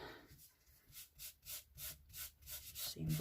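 An embossing buddy is rubbed back and forth over card stock in a rhythmic series of soft, close scuffing strokes, about eight passes, quiet and alone.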